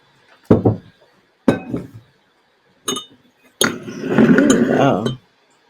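A spoon stirs rose honey into tea in a cup, giving a few sharp clinks against the china followed by a longer run of rapid scraping and clinking, close and fairly loud.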